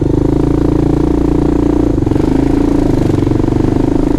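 An off-road vehicle engine runs in East Harlem, a loud, close, steady drone with a low throbbing pulse that holds level throughout, with a brief dip near the middle.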